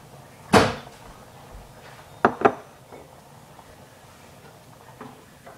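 A kitchen cupboard opened to take out a bowl: a sharp wooden clack, then a pair of quick knocks and rattles a couple of seconds later, and a faint final tap in a quiet room.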